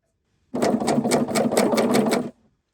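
A serger sewing machine stitching an overlock seam on T-shirt fabric with a clear presser foot, a close, rapid mechanical whir with even rhythmic ticking that starts abruptly, runs for about two seconds and stops cleanly.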